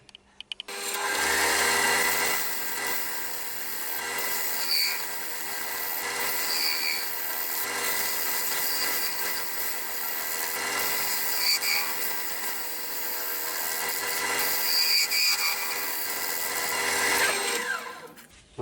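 A piece of wood spins on a lathe while a gouge cuts it during off-centre turning, giving a steady, loud, continuous whirring and scraping hiss with faint periodic tones that lasts nearly twenty seconds.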